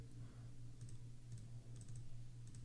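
A computer mouse clicks a few times in quick, light taps to close a freight load page, faint and close against a steady electrical hum, with no talking.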